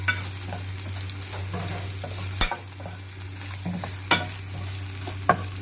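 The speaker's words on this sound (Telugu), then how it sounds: "దీంట్లో మనం మంచిగా కరివేపాకు వేసుకోవాలి కరివేపాకు కూడా ఎక్కువ వేగొద్దు" Curry leaves frying in hot oil with garlic in a pan, a steady close sizzle running throughout with a few sharp crackles and spoon clinks breaking over it, alone without talk.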